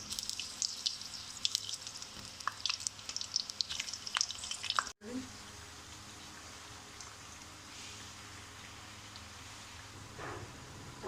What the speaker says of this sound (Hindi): अब इनको हम फ्राई करेंगे।